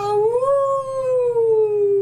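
A coyote's howl rendered by a storyteller's voice imitating the animal: one long rising then slowly falling wail, close and clear, with no other sounds around it.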